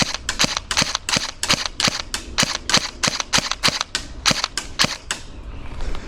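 Novritsch SSE18 airsoft electric gun firing a rapid, steady string of about fifteen sharp, close cracks, each with a brief mechanical click, ending in a fading tail.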